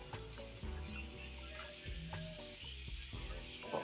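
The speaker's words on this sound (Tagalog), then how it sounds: "Lagyan na po natin ng patis." Chicken tinola cooks in a pan as fish sauce goes in, giving a steady close sizzle with scraping stirs and light clinks running throughout.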